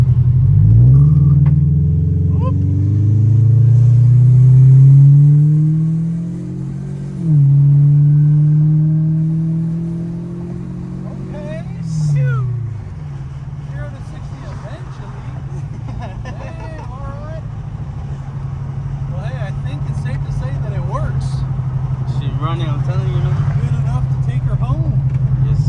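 A modified supercharged widebody Scion FR-S drives at low speed and swings through a wide U-turn, its engine a steady close rumble that rises and dips with throttle, with people talking inside the car over it.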